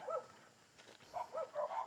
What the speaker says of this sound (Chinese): 这些3-4狗只听起来好凶的样子啊